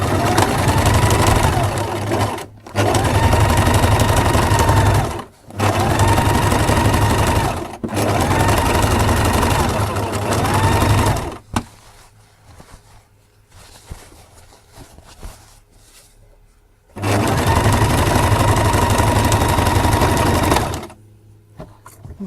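A sewing machine runs a straight stitch around an Italian-style jeans pocket in loud, sustained bursts. The bursts break at short pauses, then give way to a quieter stretch of handling noise before one final run.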